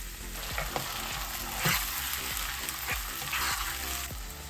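Tomatoes, ginger garlic paste and green chili fry for spinach and mustard green palak with a loud, continuous close sizzle and a regular rhythm of spoon scrapes stirring the pan.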